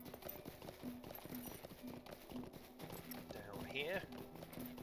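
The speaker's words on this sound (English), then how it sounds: "So back on our horse." A horse's hooves clip-clop in a steady walking rhythm in the online game Lord of the Rings Online, fairly quiet under someone talking, with a brief higher game tone near the end.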